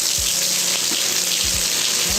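Hot decoction of beer mash being poured back into the mash tun, a steady hissing wash of liquid with a few low thumps and sloshes over a couple of seconds.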